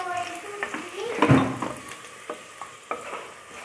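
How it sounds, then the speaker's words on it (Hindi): Garlic sizzles steadily in a hot pan while a utensil stirs and scrapes through it, with a louder burst of crackling partway through. "इस लहसुन को थोड़ा सा हमने भूनना है"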